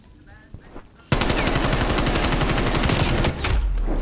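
Rapid, loud gunfire from a no-scope gun in a Call of Duty League match, a continuous burst starting abruptly about a second in and running nearly to the end, with faint game noise before it.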